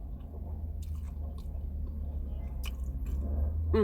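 Someone eats tacos close to the microphone, with soft wet chewing and squishy bites over a steady low background rumble and a few small clicks.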